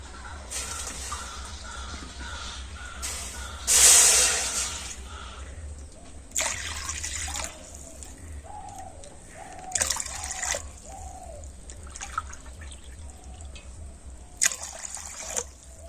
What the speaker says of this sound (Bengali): এই কাপ মেপে আমি চার কাপ জল কড়াতে দিয়ে দেব